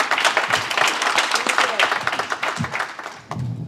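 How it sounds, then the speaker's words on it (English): An audience claps for a panel of young siblings at a summit, a dense broadband round of applause that swells and then thins toward the end, with a few voices briefly rising over it. "Let's give them a round of applause, please"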